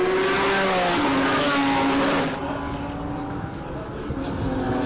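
Race cars roar past during a 2023 Passion for Speed circuit race, one engine loud and close before it falls away into a quieter drone of cars farther off.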